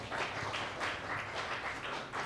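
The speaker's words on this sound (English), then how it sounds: "Please a round of applause for that" An audience at a podcast talk gives a round of applause, a steady wash of many hands clapping, fairly faint and continuous throughout.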